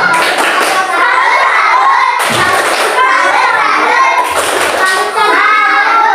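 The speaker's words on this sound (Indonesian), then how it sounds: "kasih tepuk salut dulu. Tepuk salut." A group of children claps and chants together in short rhythmic bursts, loud and close, with thumping claps punctuating each phrase.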